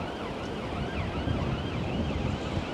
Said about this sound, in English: it is non-stop sirens tonight